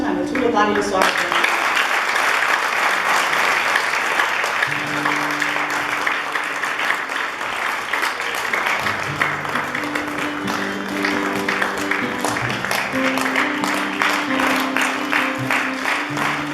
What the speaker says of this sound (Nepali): हामी ठुलो तालीले स्वागत गर्छौँ।